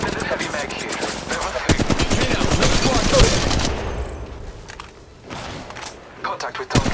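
Rapid bursts of automatic gunfire from a mobile shooter video game, loud and close, with sharp repeated shots fading to scattered pops and a voice speaking over the action.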